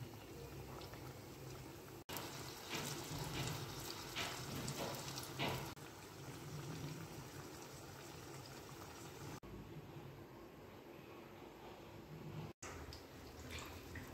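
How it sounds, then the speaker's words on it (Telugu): Green mirchi bajji chillies dropped one at a time into hot oil, frying with a steady dense sizzle and bubbling that fills the space, loud and continuous with brief breaks. "ఆయిల్ హీట్ అయింది. మిర్చి బజ్జీ వేసుకుందాం."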